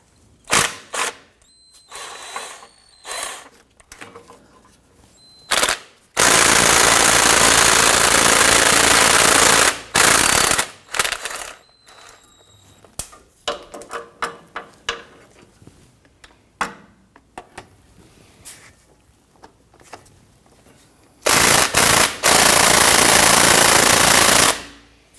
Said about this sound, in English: I'm going to use my ratchet on the bolt and a pry bar on the other end to lock that drive shaft.